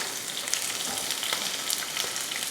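A large onion, added to crushed garlic in oil in a pan, sizzles with a close, steady frying hiss that runs unbroken and without voices.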